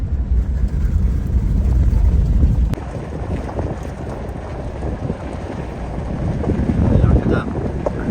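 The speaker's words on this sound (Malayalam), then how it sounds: "നല്ല കാറ്റുണ്ടല്ലടാ മണല് കാറ്റിന് വന്നതായിരിക്കും" Strong desert wind in Qatar roars and buffets the microphone in a heavy, rumbling gust that eases slightly, then swells again.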